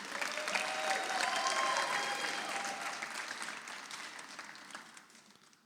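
Sustained applause from an audience at a community awards ceremony for rising stars in Rahway, steady and full at first, then gradually thinning and fading toward the end.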